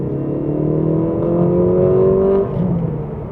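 A 2025 Lexus IS300 sedan accelerates from inside the cabin, its engine hum climbing steadily in pitch for about two seconds before easing off as the driver lifts, heard close and alone.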